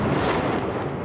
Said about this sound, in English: The night sky lit up with explosions as Israel's air defense system intercepted one Iranian missile after another.